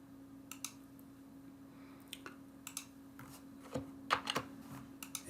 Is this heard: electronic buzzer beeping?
no